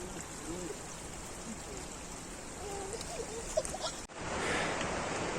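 A cold mountain stream flowing beside a trekking path, a steady rushing of water under faint voices, growing louder near the end.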